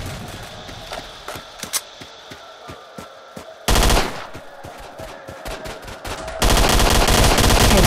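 Gunfire in a S.T.A.L.K.E.R. deathmatch on the Bar map: sharp single shots and short automatic bursts, close and loud, ending in a sustained heavy volley.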